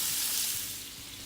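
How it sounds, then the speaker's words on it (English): Shrimp frying in a hot pan on a cooking show give off a steady, fairly quiet hiss of sizzle that fades a little toward the end, with no one talking. "Oh, you hear that sizzle?"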